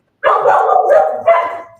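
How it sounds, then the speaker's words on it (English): Jim's dogs barking in a short burst, a fairly loud run of yips and barks close by, with no talk over them. "That's Jim's dogs."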